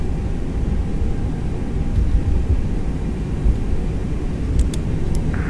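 An Airbus A321 in a flight simulator roars steadily through its takeoff run, a loud, broad engine and rumbling wash that holds level throughout, with a few faint tonal blips near the end.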